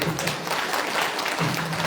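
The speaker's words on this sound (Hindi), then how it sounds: "एक ताली बजा दो।" An audience at a joint Christmas carol programme in Bomdila applauds in a steady, dense burst of clapping that fills the room without a break, with faint voices underneath.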